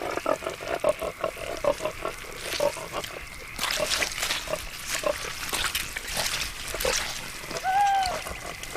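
Wild boar in cool mud at Coto Doñana, Spain, making soft grunts and wet squelching splashes at close range, with a low narrating voice over parts of it.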